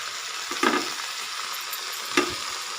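Nalleru stems and tomato pieces frying in a pan, a soft steady sizzle with two short stirring scrapes, quiet and close.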